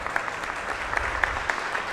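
A whole auditorium applauds in a standing ovation after a presidential address at a press conference, an even, sustained wash of many hands clapping at moderate level.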